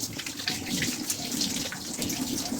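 Tap water runs steadily into a sink while a face is rinsed, a close, continuous splashing hiss with small irregular splatters throughout.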